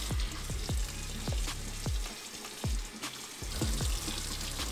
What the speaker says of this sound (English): we got the tomatoes boiling